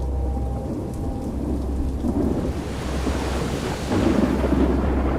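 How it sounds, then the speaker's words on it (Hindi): Heavy rain pours in a dense continuous hiss while deep thunder rumbles low underneath, swelling louder near the end, with no voices. "शायद ही आसमान का कोई हिस्सा होगा जो इस बाढ़ वाली बारिश से फट नहीं रहा था।"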